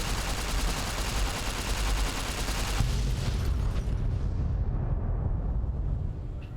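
A sustained, loud explosion from the Fallout: New Vegas video game, a dense rumbling blast that swells after a couple of seconds and continues with a churning roar before slowly thinning out, with no voices.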